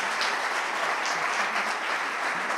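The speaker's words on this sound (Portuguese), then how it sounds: "Vamos aplaudir Jesus." Steady applause from a church congregation at a celebration service, a dense, even wash of clapping that holds at a constant level throughout with no voices above it.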